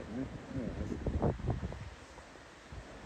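Gusty wind at Dunure castle buffets the microphone in a steady low roar that swells and eases, with a voice speaking over it partway through.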